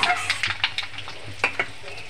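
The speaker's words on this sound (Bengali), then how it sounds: "কালো জিরেটা একটু ভেজে নেব।" Nigella seeds and asafoetida frying in hot oil, a short bright crackling sizzle with a few sharp spits and stirring scrapes, close and fairly loud, no talk.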